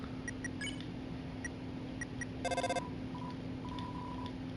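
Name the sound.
phone calling in the video game Undertale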